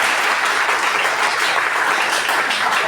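An audience at an afternoon alumni panel session applauds, a dense, even wash of many hands clapping at once, loud and sustained through the whole stretch without speech.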